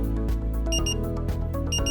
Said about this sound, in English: You will hear a repetitive double beep when charging is complete.